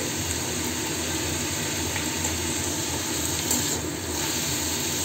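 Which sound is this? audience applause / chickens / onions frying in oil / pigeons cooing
onions frying in oil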